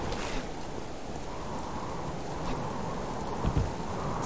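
Steady rain falls in the survival video game Subsistence, a dense, even hiss of drops filling the scene throughout, with a brief dull thump near the end.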